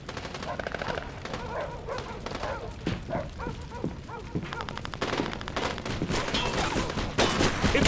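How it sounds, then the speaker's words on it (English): Machine gun fire in the Mafia II game rattles in rapid bursts amid a busy firefight, with other shots and shouting voices mixed in throughout. "Get on that machine gun!"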